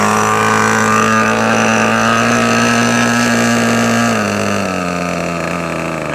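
A radio control model glow plug engine runs steadily at close range, a loud, buzzy, continuous drone that holds its pitch and then dips slightly lower toward the end, alone with no talk.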